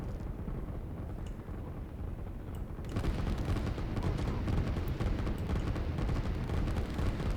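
Rocket fire in the real-time strategy video game Line War: a dense roaring barrage of launches and blasts that swells abruptly partway through into a loud, sustained rumble.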